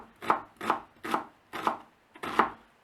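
A knife chops an onion finely on a cutting board in five crisp, evenly spaced strokes, close and clear with no other sound.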